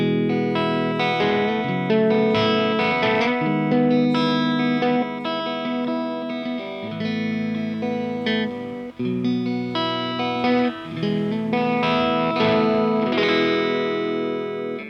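Electric guitar recorded into FL Studio and played through an effects unit, with heavy distortion and chorus on sustained chords and riffs, loud and continuous with no voices.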